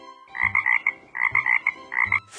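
A frog croaks in three quick bursts of rapid, rhythmic calls, loud and close, with short pauses between each run of croaks.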